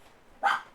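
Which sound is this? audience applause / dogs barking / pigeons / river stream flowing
dogs barking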